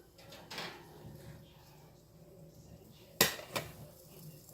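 Keto pizzas being pulled from an oven, with soft clatter of pans and a sharp metallic bang near the end followed by a second clunk, close by over low room noise.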